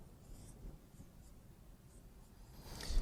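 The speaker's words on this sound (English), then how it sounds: "So again, writing out its truth table" Quiet, steady scratching of a pen on paper as a truth table is written out for a logic exercise, faint and continuous, with a slightly louder stroke at the end.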